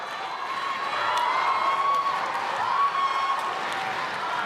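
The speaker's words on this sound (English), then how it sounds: "Early days, but the crowd are delighted." A crowd cheers and roars at the men's team foil fencing final of the World Championships, Hong Kong against Italy. The sound is a steady, dense wall of noise that rises a little in the middle, with a thin whistle-like tone running through it.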